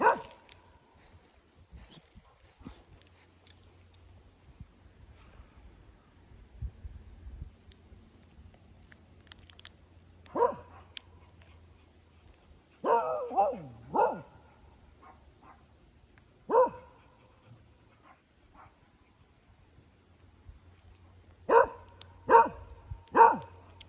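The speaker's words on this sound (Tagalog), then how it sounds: "May aso siguro siya kaya galit si Hugo." A dog barks in short bursts of two or three, fairly close, separated by quiet stretches with faint background shuffling and no talking.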